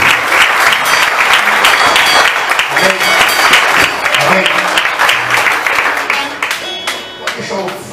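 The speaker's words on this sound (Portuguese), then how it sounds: "Dá uma salva de palmas para Jesus e Cristo." Sustained loud applause from a congregation at a Saturday night church prayer service, dense clapping filling the whole span with faint voices mixed in.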